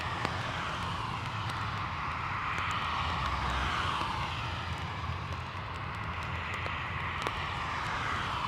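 A Loganair ATR turboprop airliner passing at Dublin Airport, a continuous broad engine drone that swells and fades slightly over several seconds, heard from a distance with no voices.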